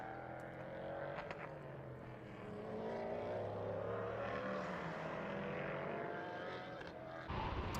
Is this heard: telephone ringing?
no